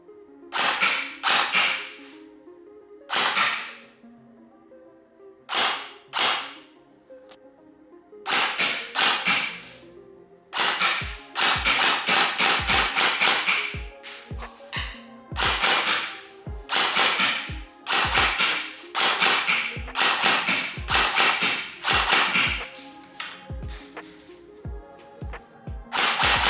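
An ICS CXP ARK airsoft AK rifle fired offhand, delivering sharp snapping shots in single reports and quick strings with short gaps between groups, loud and close.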